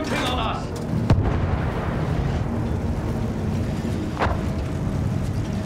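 Rumbling tank cannon and artillery fire from a Battlefield 1 WWI battle, a steady low roar with a couple of sharp distant blasts, with voices shouting over it.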